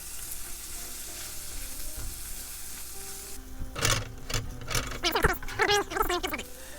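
Garlicky aromatics for a chicken francese pan sauce sizzle steadily in a hot pan. Partway through, the frying grows busier and louder, with sharp clatters and scraping as the pan is stirred.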